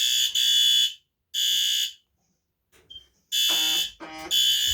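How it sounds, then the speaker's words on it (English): A System Sensor i32WB photoelectric smoke alarm sounds during a test with loud, piercing electronic beeps in a repeating pattern of three, separated by silences, close to the listener. "press the test button to sound the alarm"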